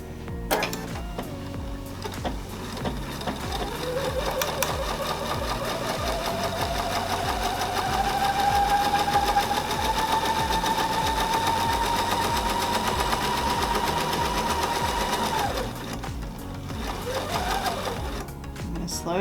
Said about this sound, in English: then we sew down this long seam